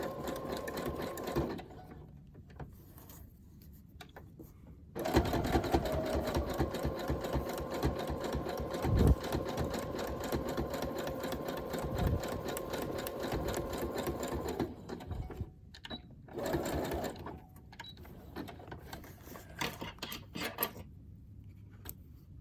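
A sewing machine stitches patched-together fabric: a short run at first, then a long, steady mechanical whir lasting about ten seconds, followed by a few brief stop-start bursts, with quiet handling sounds in the pauses.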